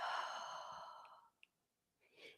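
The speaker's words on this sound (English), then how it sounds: "And breathing out." A long, audible exhale during yoga practice, close and soft, trailing off into quiet before a faint second breath at the end.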